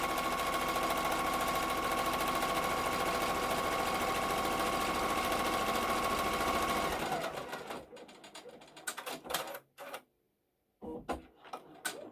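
An embroidery machine stitches down border fabric on a haunted house quilt block with a steady, close, humming whir for about seven seconds. It then stops, leaving a few scattered handling clicks and brief silences.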